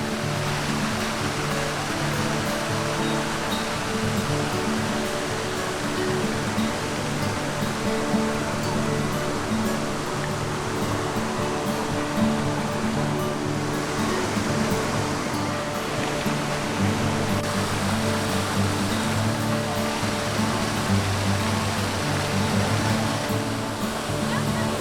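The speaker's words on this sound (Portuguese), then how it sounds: "Essa foi uma das cachoeiras de que mais gostamos." A waterfall at São Thomé das Letras sends out a constant broad roar of falling water, steady and loud throughout.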